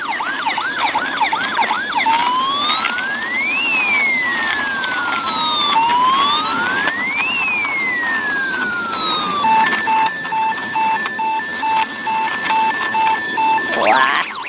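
A toy ambulance sounds its siren, close and loud, cycling through rising and falling wails and then switching to a rapid stepped electronic pattern before it cuts off at the end.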